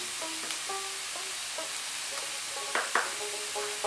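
Spices and turmeric stirred as they fry in a hot pan, a soft steady sizzle with scattered scraping and clinks of the spoon, close and fairly quiet, with no voice.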